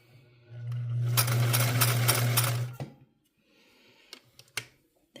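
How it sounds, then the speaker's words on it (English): A Singer 348 sewing machine sews straight stitches on fabric in a close, loud burst of rapid whirring lasting about two seconds, followed by quiet with scattered clicks and taps. "let's turn our fabric around and try to get some straight stitches"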